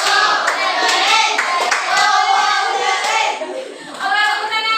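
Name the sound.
classroom applause, clapping for a student group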